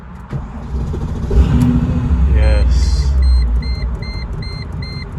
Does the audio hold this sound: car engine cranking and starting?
yes